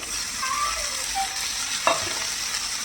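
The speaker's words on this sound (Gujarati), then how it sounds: "અને બધાને સરસ રીતે હલાવી દેવાનું છે થોડી વાર આને છડવા દેવાનું છે" Garlic, chili and ginger paste fries with spices and green onions in a pan, a steady close sizzle broken by a single sharp scrape of stirring near the two-second mark.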